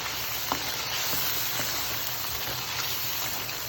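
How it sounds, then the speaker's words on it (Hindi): Spinach being stirred into mutton in a hot pan for palak gosht sizzles and crackles steadily, with a few soft clinks and scrapes of the spoon rising above the frying hiss. "पालक को इसमें ऐड करते हैं अभी हम लोग, ठीक है, और इसको अच्छी तरीके से मिक्स कर देते हैं।"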